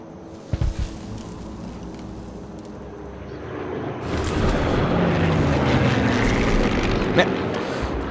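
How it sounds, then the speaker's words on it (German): Propeller aircraft engine droning in the Sniper Elite 3 video game, a steady broad rumble that swells louder midway as the plane draws nearer, with a few brief thuds early on and no talk. "Komm schon, Flugzeug. Ich will meine Position nicht wechseln müssen."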